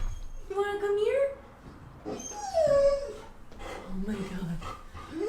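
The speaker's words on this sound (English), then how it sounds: "Oh, the dogs are going. Oh, everyone's barking." Dogs bark and whimper at home in a chorus of high whines and yips, with someone talking over them throughout.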